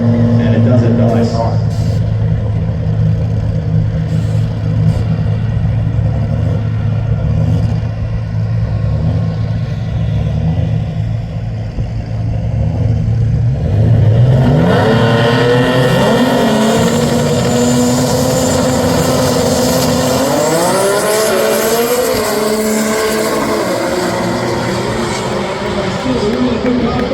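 Nissan GT-R race cars accelerate hard down a drag strip in Texas, engines roaring and rising in pitch through the gears. A commentator talks over the sound throughout.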